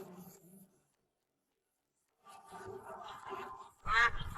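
Half-grown sheldrake-type ducks being carried in a moving vehicle give out rough, nasal quacks, a short burst at the start, then a gap, then a denser run of calls that ends in a loud, harsh flurry close by.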